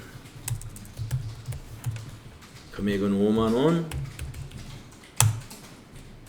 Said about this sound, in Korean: 적요에다가 타자해야 되겠네요.